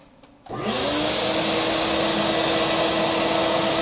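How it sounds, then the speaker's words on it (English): A shop vacuum switches on at a Phlatprinter CNC dust shoe, roaring up from a quiet start into a loud, steady whine that holds without a break. "Let's see if the vacuum works."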